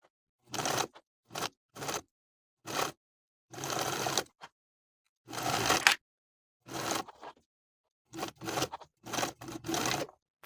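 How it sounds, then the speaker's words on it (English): Short, quiet bursts of a sewing machine set sleeves into the armholes of a V-neck top, each run a brief stitching whir separated by silent pauses. "Then we'll sew our sleeves into each armhole, sewing slowly and carefully"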